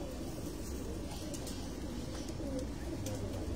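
Pigeons coo on a rooftop in soft, low repeated calls, layered over steady outdoor background noise with faint chirps, with no clear voices.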